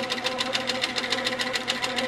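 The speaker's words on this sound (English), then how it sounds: "Just going to stitch all the way around this template." A sewing machine stitches slowly around a quilt block template, its needle going in a steady, even rapid rhythm of about seven beats a second with a constant motor hum underneath, close and with no talking.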